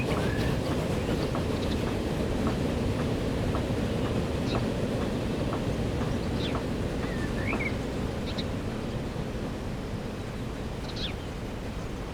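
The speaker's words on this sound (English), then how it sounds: "And there comes the next train" A train rumbles past in Transport Fever 2 with a continuous, fairly faint low roar and rattle, over a steady ambient bed with occasional bird-like chirps.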